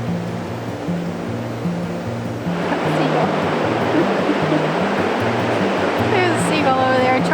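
Flowing water from a waterfall in Prague makes a broad, steady rushing roar that swells louder partway through, with a faint tonal hum underneath and a brief higher sound near the end.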